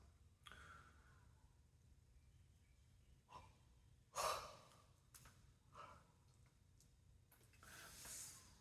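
A long, breathy yawn from a person drinking ripe pu-erh tea, soft and close with drawn-out exhalations and a sharper sigh midway, alone in a quiet room.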